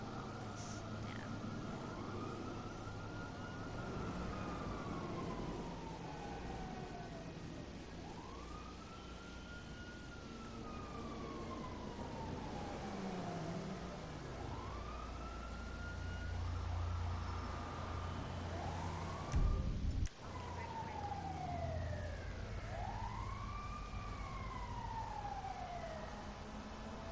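A siren wails and whoops in repeated rising and falling sweeps as paramedics pass close by, loud and continuous over background noise and game-like ambience, with a brief knock partway through.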